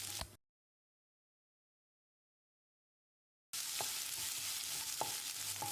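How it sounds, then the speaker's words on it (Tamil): Half a large finely chopped onion sautés in a pan until translucent, giving a steady close sizzle and stirring scrapes, cut off by a few seconds of silence before the frying resumes. "வெங்காயத்தை கண்ணாடி பதத்துக்கு வதக்கிடலாம்"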